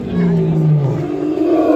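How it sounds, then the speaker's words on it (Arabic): A lion at a zoo in Alexandria gives a deep, drawn-out roaring groan nearby, loud and rumbling, with a murmur of people in the background. "دلوقتي هسمعكم صوت الاسد لما بيكون زعلان بيبقى عامل ازاي"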